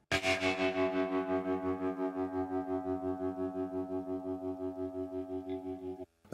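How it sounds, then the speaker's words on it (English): A tremolo electric guitar sample triggered on an SP sampler pulses in a steady rapid throb across sustained chord tones, loud and continuous for about six seconds before cutting off abruptly. "this tremolo guitar,"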